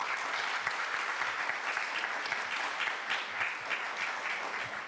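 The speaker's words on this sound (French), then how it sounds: "je pense que nous pouvons d'ores et déjà applaudir nos fantastiques interprètes." An audience at an official opening event at a French Institute applauds the interpreters with full, continuous clapping, a moderate and even wash of sound with no speech on top.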